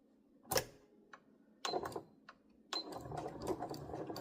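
A home sewing machine stitching fabric for a bowl cozy, with a back tack: short bursts of mechanical whirring and ticking, then a longer steady run of stitching near and clear.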